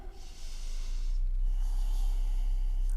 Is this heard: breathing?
yes